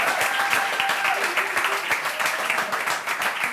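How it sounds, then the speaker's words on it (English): An audience at a coding bootcamp demo day claps for the presenting teams, giving dense, sustained applause that fills the room from start to finish. "So please, a big round of applause to all the teams."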